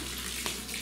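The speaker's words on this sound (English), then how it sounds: "I'll just add more water." Water is poured from a tap into a homemade slime mixture, a steady splashing rush filling the brief moment at low-to-moderate level with no voices.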